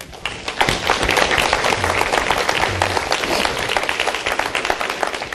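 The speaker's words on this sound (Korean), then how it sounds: "우리 박수로 축하 한번 해드리죠" Steady, dense applause from an audience at a CEO lecture for university students, marking a newspaper's 51st anniversary, sustained and fairly loud throughout.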